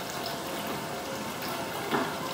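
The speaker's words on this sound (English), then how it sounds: "And you can see the water coming out." Water drains steadily from wet gampi paper squeezed under a 20-ton press, a faint, continuous trickling and gushing with a brief louder splash near the end.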